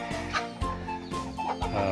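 Laying hens, young pullets kept loose to peck and forage, cluck in close, repeated rhythmic bursts, a busy flock sound with no voices over it.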